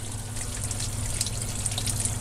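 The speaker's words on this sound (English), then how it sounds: "And then the water flows back down here." Water drains and trickles through an aquaponics grow bed, a steady close splashing flow with bright droplet sparkle over a low pump hum.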